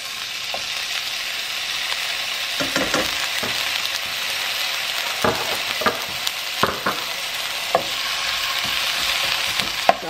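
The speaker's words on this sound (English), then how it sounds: "Just let them saute a little bit." Garlic and vegetables sauté in a hot pan, a steady close sizzle broken by intermittent scraping stirs of a utensil against the pan, with no voices.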